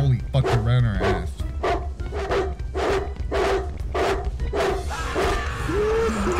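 A video game dog barks in a fast, regular run of about a dozen loud, close woofs, with a voice talking and exclaiming at the start and end.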